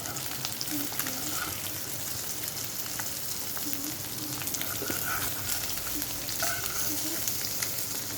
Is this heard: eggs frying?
yes